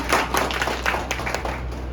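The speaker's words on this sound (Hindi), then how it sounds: "तालियां।" Audience at an annual company function clapping in a brief, brisk burst of many hands, moderately loud and close, with no talking over it.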